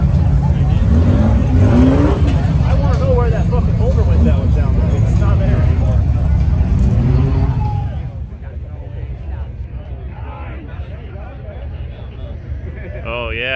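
Off-road race car engine at King of the Hammers 2020, a loud, close, sustained revving roar that cuts back to a lower idle-like rumble partway through.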